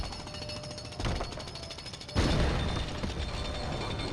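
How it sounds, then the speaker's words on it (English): Emmet's jackhammer in the video game Lego Dimensions: a loud, continuous rapid mechanical pounding that grows heavier partway through, with no talking over it. "He has a jackhammer, and he's the only one that has it."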